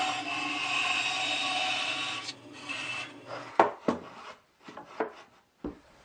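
A bandsaw cuts a profile into a wooden part for a homemade sander, giving a steady rasping hum for about two seconds, then stopping as scattered knocks and handling thumps follow nearby.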